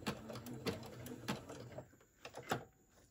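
A sewing machine zigzag-stitches thick fabric slowly, giving a quiet, uneven series of mechanical clicks and thumps in short bursts, with a brief pause before the last few stitches.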